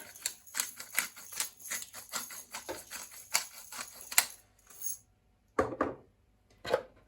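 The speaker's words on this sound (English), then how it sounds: "I'm going to a little salt over it, a little pepper" Salt and pepper sprinkled over sweet peppers, quick irregular ticking and clicking with a brief pause and a few final taps, close and fairly quiet.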